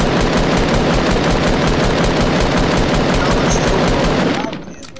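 Assault rifle fire in a Fortnite match comes as a loud, continuous stream of rapid shots that holds steady for several seconds, then cuts off sharply near the end.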